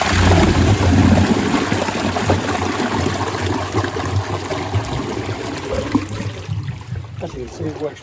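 Water gushes steadily through a gravity-fed pond filter during a roughly 15-second flush, a loud continuous rushing and trickling that stays close and even throughout, easing slightly toward the end.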